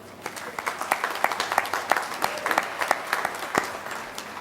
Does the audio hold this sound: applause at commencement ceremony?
yes